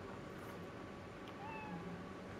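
A cat meows in the Spider-Man: Miles Morales video game, a faint, brief call over a steady background hum with no talk.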